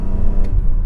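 A BMW M3 E46 engine hums with a loud, close, low rumble during a short steady stretch, with no talk.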